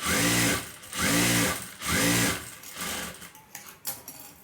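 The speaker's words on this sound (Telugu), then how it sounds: "ఒక హాఫ్ ఇంచెస్ స్టిచ్ చేసుకోండి దీని మీద ఒక స్టిచ్ రానియండి" A sewing machine stitches lining onto a shape belt in three even, close bursts of rapid whirring, each about half a second long, followed by a few faint clicks and handling sounds.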